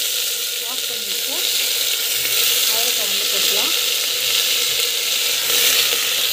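Mustard seeds and cumin sizzle in hot cooking oil, a steady bright hiss with scattered small pops running through the whole stretch, fairly close and even in level, with no talk over it.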